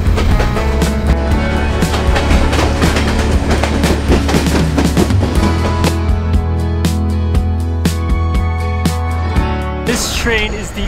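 Clattering, rumbling ride aboard the El Chepe passenger train through Copper Canyon, Mexico, with a continuous low drone and dense rapid clicking and knocking of the wheels and car, loud and steady throughout.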